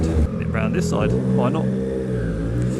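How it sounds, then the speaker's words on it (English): A tuned 2020 Triumph Street Triple 765 RS filters past traffic, its engine revving under wind roar while the rider talks over it the whole time. "See, this is the beauty of the motorcycle, isn't it?"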